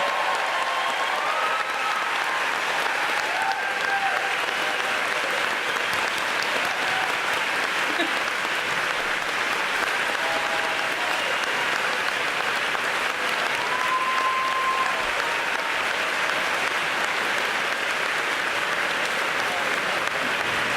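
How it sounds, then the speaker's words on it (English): An audience at an annual back-to-school teacher event claps steadily and loudly for about twenty seconds, with no voices rising above the sound. "I ask we all give a round of applause for his 4 years as our GUEA president."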